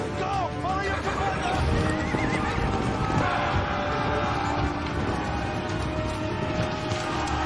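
A horse neighs and whinnies amid clip-clopping hooves in a Game of Thrones battle scene, loud and continuous over dense battle noise, with voices mixed in.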